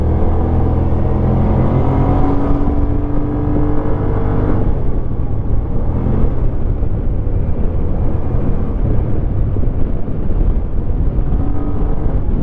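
A Kymco AK 550 maxi-scooter with a 50-horsepower engine pulls hard at full throttle, its engine drone rising steadily in pitch beneath heavy, constant wind roar from riding at speed.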